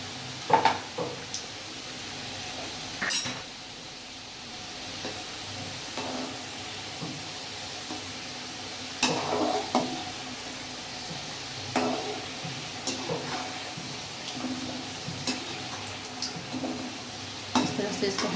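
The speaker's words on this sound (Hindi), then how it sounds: "मैं इसमें एक एक गुजिया डाल के तल लूँगी" Gujiya deep-frying in hot oil over lowered heat, a steady soft sizzle with occasional louder clinks and stirring bursts from a spoon or slotted ladle against the pan.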